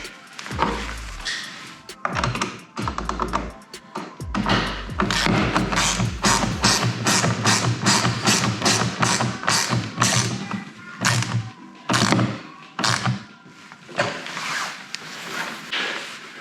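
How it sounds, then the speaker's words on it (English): A socket wrench tightening a small lock nut while assembling a kids' 24V electric go-kart, with a rapid run of loud ratcheting clicks after a few heavier thumps, close and alone. "Now to tighten this, you can use an adjustable wrench or an 8mm socket wrench."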